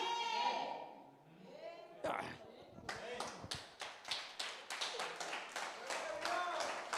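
A church congregation applauds during a Spanish-language service, with rhythmic clapping building after a preacher's voice, the claps loud and close with voices mixed in.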